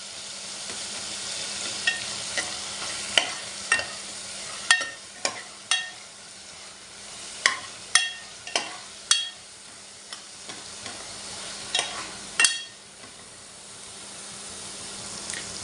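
Ground masala paste with tomato cooking in a pan for a val bean curry, a low hiss beneath a run of sharp, irregular spoon knocks and scrapes against the metal as it is stirred.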